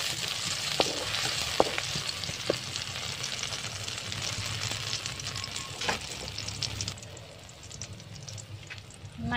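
Chopped garlic sizzles steadily as it fries in a pan, a dense continuous crackle with occasional stir clicks, fading slightly near the end.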